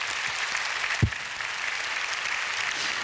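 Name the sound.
church congregation applause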